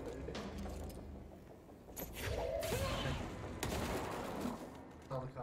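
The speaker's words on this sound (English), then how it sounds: "they only explode after they die" Enemies bursting in explosions during combat in the video game Control, several whooshing blasts and gunfire-like bursts mixed with game sounds and a swooping tone, with players talking over the action.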